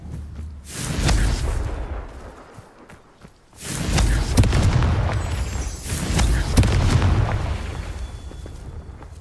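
Confringo spell explosions in Hogwarts Legacy: two loud, close booming blasts, one near the start and a longer, rumbling one midway, separated by a quiet gap.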